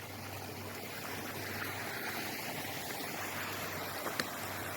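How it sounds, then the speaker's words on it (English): Small waterfall in a rocky grotto in the Cheaha Wilderness of Talladega National Forest, a steady, close rush of splashing water, unbroken and even throughout. "A little waterfall grotto."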